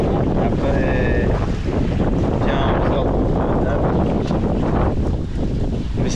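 A cruising sailboat sails under canvas with its engine off in a steady beam wind of about 13 to 15 knots. Strong wind buffets the microphone over rushing water and hull noise, with faint voices in the background.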